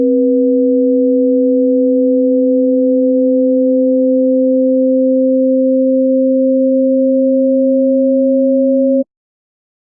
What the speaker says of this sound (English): if we listen very carefully, we can often hear beats at these mistuned intervals.